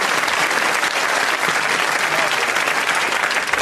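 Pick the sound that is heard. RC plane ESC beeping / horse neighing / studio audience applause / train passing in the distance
studio audience applause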